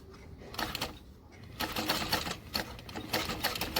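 A sewing machine runs stitches up a length of elastic on a pocket, the motor whirring in several short bursts separated by brief pauses, close and moderately quiet.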